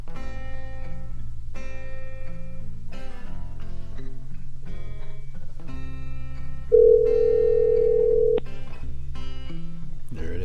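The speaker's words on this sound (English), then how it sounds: "There it is, ringing. It's working." A phone call rings through: a steady electronic ring tone holds for about a second and a half, set against a busy bed of background music with repeated musical notes.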